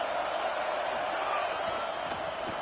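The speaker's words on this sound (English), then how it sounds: "This crowd knows this defense needs them right now." A stadium crowd in a college football video game roars steadily as a broad, even wash of noise, moderately loud and unbroken throughout.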